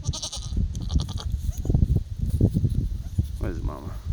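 Newborn goat kids and their mother bleat close by in short, wavering cries amid rustling and handling noise on a farm, with a person talking briefly near the end.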